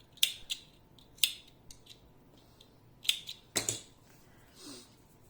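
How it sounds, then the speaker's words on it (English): Scissors snipping red crochet yarn, several sharp close metallic clicks spaced irregularly over a quiet background, ending with a soft rustle. "I am cutting the red yarn."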